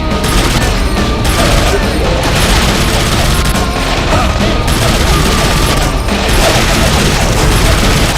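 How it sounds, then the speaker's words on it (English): Heavy video game battle with relentless gunfire and RPG shots, loud continuous automatic fire layered with booming blasts and crashes, dense and close throughout, with a voice talking underneath. "And now they're shooting RPGs at me."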